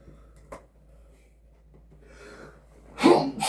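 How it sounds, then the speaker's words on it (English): After a few quiet seconds with faint rustling and a small tap, a person at a game setup lets out a single sharp sneeze, close and loud. "had to sneeze"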